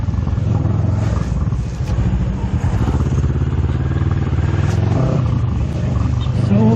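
A 2019 Kawasaki Z650 motorcycle rides through city streets, its engine a loud, continuous close-up roar with no letup and no talking.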